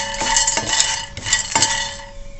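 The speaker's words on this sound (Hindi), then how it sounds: "तो सबसे पहले मैं पैन में ये फूल मखाने रोस्ट करूँगी।" Fox nuts (makhana) are roasted in a pan, and a spoon stirs them with loud, close metallic scrapes and clinks in a quick irregular rhythm over a low rattling hiss, with no talking.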